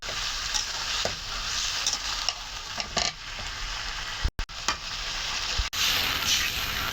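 Taro being stirred and sautéed with spices in a pan, a steady close sizzle with scraping stir strokes, two brief dropouts midway.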